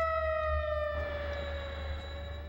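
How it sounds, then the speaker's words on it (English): Steady, wailing siren from the Robot Alchemic Drive video game, heard as a sustained tonal blare that shifts pitch partway through, over a constant low hum with no talking. "Sirens!"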